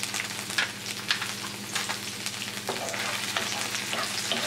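Onions with a tablespoon of cilantro sautéing in hot oil, a steady crackling sizzle close by, broken by frequent spoon scrapes and stirring strokes.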